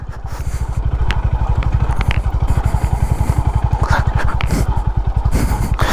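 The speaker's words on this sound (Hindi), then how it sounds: "तो बिना क्लच को यूज़ किए ये मोटरसाइकिल आराम से इन गड्ढों पे से निकल गई सेकंड गियर पे धीरे धीरे।" A Honda Highness CB 350 motorcycle thumps along slowly over potholed off-road ground in second gear, its single-cylinder engine pulsing in a loud, even low beat, with faint rattles and scrapes on top.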